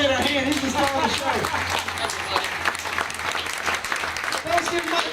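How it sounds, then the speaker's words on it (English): An audience claps loudly and continuously at the Gatorland alligator show in Orlando, Florida, a dense crowd applause running the whole time with a presenter's voice heard over it. "Alright, folks, give an alligator a hand."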